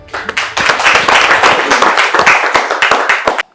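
Audience at a corporate partners' meeting applauds loudly to greet the director general and his collaborators, a dense burst of clapping that thins into a few final claps.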